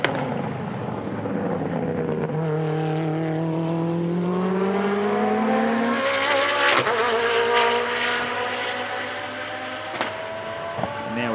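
A time attack race car at the Yokohama World Time Attack Challenge, its engine note rising steadily through the gears as it passes at speed, loud and sustained, with a mechanical crackle on the overrun.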